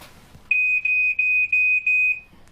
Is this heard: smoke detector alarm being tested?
yes